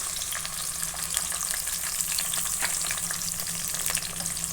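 Sliced onions sizzle loudly in hot oil in a frying pan while pasta sauce is being made, a dense, continuous crackling hiss that stays close and even throughout, with faint scraping underneath and no talking.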